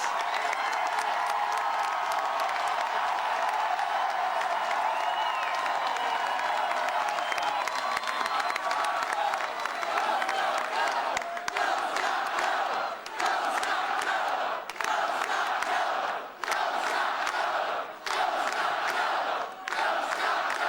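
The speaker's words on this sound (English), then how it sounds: "I bet they can hear this cheering all the way in Washington, D.C." Large crowd at an election night rally cheers, whoops and applauds continuously and loudly, the roar swelling in repeated waves.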